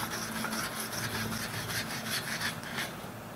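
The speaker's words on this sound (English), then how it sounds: "put it on another light sanding at 400 or 600" Light sanding of a wooden Daruma Japanese hammer with fine 400 to 600 grit paper: steady, soft rhythmic rasping strokes, close and fairly quiet, with no voices.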